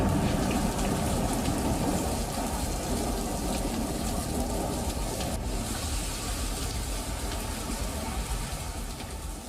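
Heavy rain from Cyclone Michaung pours steadily and loudly, a dense continuous hiss of drops on surfaces with no pauses, close and unbroken throughout.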